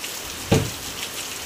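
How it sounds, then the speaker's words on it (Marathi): Heavy rain hisses continuously outdoors in a steady, moderate wash, broken by a single close splash or thump near the middle. "बापरे केवढा पाऊस पडतोय बघा."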